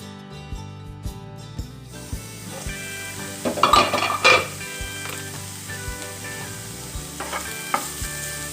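Grated carrot thoran sizzles in a pan while a spoon stirs it, with scraping and clinking against the pan, a burst of louder sizzle midway, and a steady frying hiss throughout.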